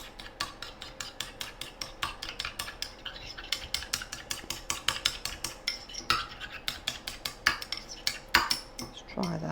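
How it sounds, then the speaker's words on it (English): A spoon stirring lemon juice into mayonnaise in a bowl, a rapid, steady run of light clinks and scrapes against the sides, close and fairly quiet, no voices. "So let's have a little stir."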